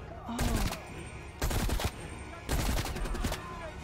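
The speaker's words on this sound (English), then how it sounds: "Can you stop shooting the guy?" Automatic weapon fire in Call of Duty Black Ops Cold War campaign, loud close bursts of rapid shots in three separate volleys with brief gaps between them, no talking.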